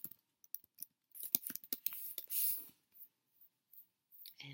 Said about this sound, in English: which would be scissors cutting.